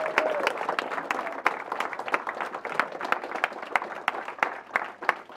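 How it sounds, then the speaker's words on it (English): A live audience bursts into applause at the finals of a sim racing series event, a dense spread of many hands clapping at close range with sharp individual claps standing out, steady throughout with no talk. "can we give a huge round of applause to Williams for allowing us to come here once again?"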